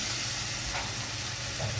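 Water hitting ground spice paste in a hot pan while cooking an egg curry with taro root, producing a steady, continuous hiss and sizzle with no talking.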